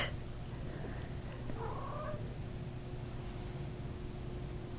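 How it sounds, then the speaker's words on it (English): A house cat meows at its owner indoors, a couple of brief, faint mews rising over steady background hiss and low hum. "One of my cats was just meowing at me."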